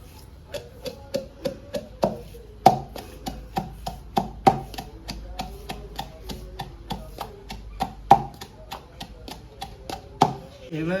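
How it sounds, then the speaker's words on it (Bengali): Ginger and garlic chopped by hand for a chicken and potato curry, a fast regular run of sharp knife strikes on a board, close and fairly loud, some hits heavier than others, with no voices. "আদা আর রসুন দিয়ে দেবো কুটে নেবো এভাবে"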